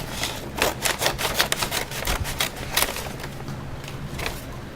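Crisp snipping and crinkling of scissors cutting through a paper bag, irregular bursts of sharp cuts close up with no talking.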